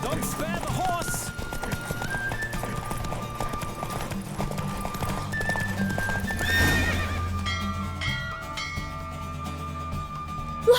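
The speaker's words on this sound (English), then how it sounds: "Don't spare the horse!" A galloping horse in The Witcher 3 game race pounds along with clear clip-clop and loud neighs, close and continuous over game music, with a voice talking briefly.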